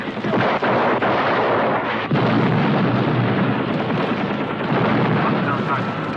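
A rocket is fired in a film excerpt about a western town and the U.S. Army, a loud, dense roaring blast that carries through the whole stretch, with a sharp jolt near the start and shouted voices mixed in.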